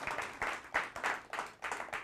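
A live audience claps and applauds after a magic trick with a rope, steady clapping swelling and easing in waves for about two seconds, fairly close and with no voices over it.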